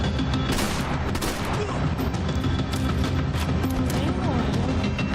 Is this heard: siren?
no